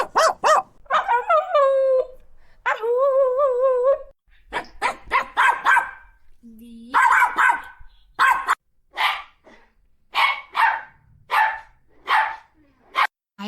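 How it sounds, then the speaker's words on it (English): AI-generated dog and puppy sound effects: a series of separate barks, yips and whimpers, close and clear, with short gaps of silence between many brief bursts. "those are pretty awesome puppy sounds"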